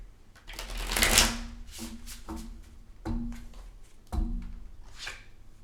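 A deck of tarot cards being shuffled close up, a loud riffle followed by several shorter flicks and slaps of cards, with no talking.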